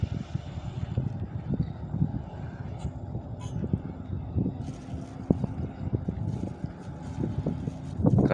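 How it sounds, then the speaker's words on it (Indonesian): Strong wind on a bare mountain at a dusk campsite buffets the microphone in a low, gusty rumble with irregular thumps, steady throughout, with faint hints of a voice. "Karena di sini sangat kencang anginnya"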